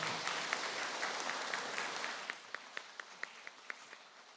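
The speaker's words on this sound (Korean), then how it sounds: "큰 박수 부탁드리겠습니다." Dense applause fills the hall at the Seoul ceremony for the 44th anniversary of the May 18 Democratic Uprising, then thins out into a handful of sharp, separate claps before fading.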